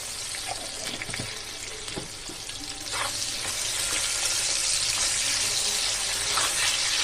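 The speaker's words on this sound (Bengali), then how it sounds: "দিয়ে আলুগুলোকে লাল লাল করে ভেজে নেব" Salted potato pieces fry in a pan while being prepared for a rui fish curry, a continuous sizzle with occasional stirring clinks that grows louder in the second half; no talking.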